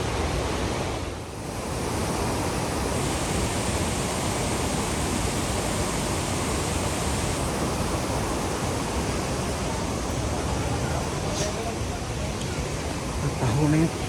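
Bomburu Ella, a wide waterfall in Sri Lanka swollen by heavy rain, pours as a dense, loud, unbroken roar that fills the whole clip, with a brief dip near the start.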